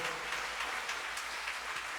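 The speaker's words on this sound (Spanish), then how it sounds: "Dale fuerte ese aplauso al Señor." A church congregation claps in praise during a sermon on addictions in the family, a dense, continuous roar of many hands, heard alone and somewhat distant.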